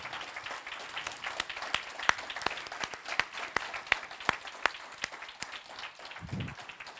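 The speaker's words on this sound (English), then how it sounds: "A big round of applause for Toni Muzi Falconi." At an 80th birthday celebration, a modest gathering claps at a moderate distance, the individual sharp claps standing out in an uneven rhythm, with a brief voice near the end.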